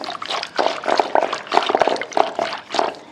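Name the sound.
water being poured into whisked yogurt for buttermilk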